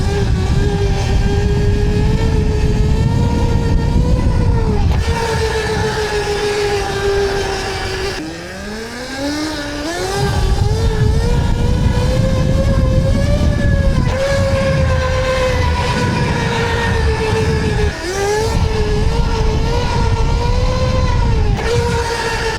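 Electro ETM electric motorcycle in wheelie mode at 350 phase amps with no regen, a loud whining electric motor rising and falling in pitch across several throttle pulls, close and without talk.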